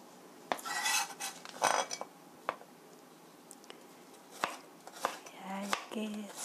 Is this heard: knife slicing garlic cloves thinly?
yes